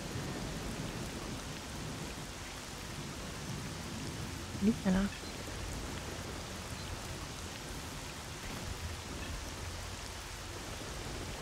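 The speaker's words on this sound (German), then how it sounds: "Jetzt ist der Regen eigentlich so laut?" Steady rain falls in STALKER: Shadow of Chernobyl, a constant hissing wash throughout with a low rumble beneath and a short burst of someone speaking German midway.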